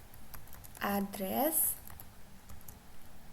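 Keystrokes on a computer keyboard while entering network router configuration commands, a short burst of clicks with a firmer press like the enter key, under a person speaking close by.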